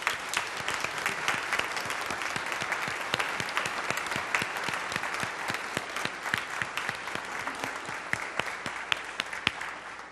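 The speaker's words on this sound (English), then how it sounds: "let us show our joy and our support with applause" A church congregation at a United Church service applauds steadily, many distinct claps forming a continuous patter heard at a moderate distance for the whole stretch.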